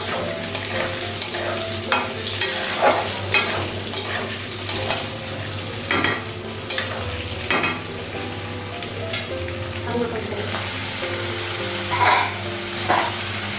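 Potatoes and green chilies fry in a pan in a home kitchen, a steady sizzle running throughout, broken by sharp scrapes and clinks as the spoon stirs at irregular intervals.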